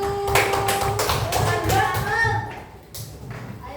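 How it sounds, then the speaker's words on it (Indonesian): A classroom group gives applause for the first group, a burst of scattered hand clapping that fades after about two and a half seconds, with voices talking over it. "tepuk tangan untuk kelompok 1"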